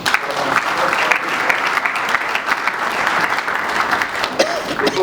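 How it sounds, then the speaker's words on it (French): Sustained audience applause at a formal public event, a dense steady clatter of many hands clapping throughout, fairly loud and continuous with no pauses. "Oui, on l'applaudit."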